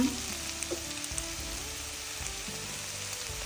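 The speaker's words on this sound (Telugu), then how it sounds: "ఇప్పుడు పప్పుల పొడి వేద్దాం." Lentil powder goes into vegetables simmering in a pan, with a soft, steady sizzle and faint stirring scrapes close by and no talking.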